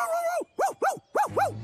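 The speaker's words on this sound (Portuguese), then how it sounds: "Acho que não é por causa disso que ele está a ladrar." Cartoon dog Pluto barks five times in quick uneven succession, loud and close, with a longer opening yelp followed by short rising-falling woofs.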